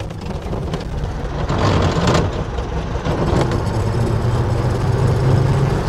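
An early 1905 Mitchell D4 Roarabout engine idles steadily close by, a continuous rough low rumble that swells slightly louder partway through, with no voices.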